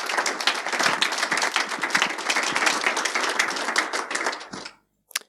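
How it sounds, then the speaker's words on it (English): A tech conference audience gives sustained, dense applause after a cloud security talk, steady and fairly close, then stopping abruptly with one last clap. "Please give them a big round of applause."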